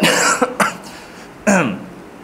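A person with influenza coughs several times close by, two quick bursts and then a harsher cough after a short pause.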